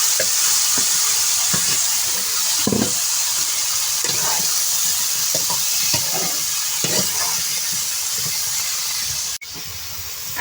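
Vegetables with potatoes and data stems hit hot oil left from frying rohu fish, giving a loud, steady sizzle and hiss throughout, with occasional stirring scrapes and knocks of a spatula against the pan.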